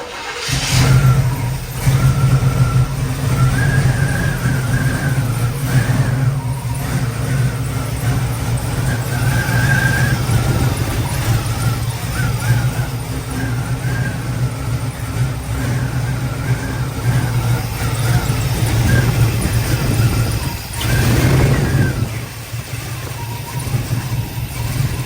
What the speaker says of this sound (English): Okay, so we're warming the car up